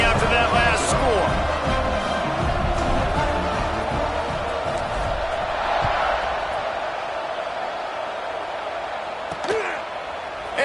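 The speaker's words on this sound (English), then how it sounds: "this crowd is buzzing after that last score" A packed football stadium crowd buzzes after a score in a Kentucky game, a dense continuous roar of voices with scattered shouts and a sharp crack near the end, while a commentator talks over it.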